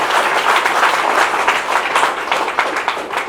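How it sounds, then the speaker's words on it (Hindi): Audience at an RCM success story event clapping loudly and densely for about three seconds, a close, continuous burst of applause with no speech. "एक बारी जोरदार तालियां बजा दीजिए"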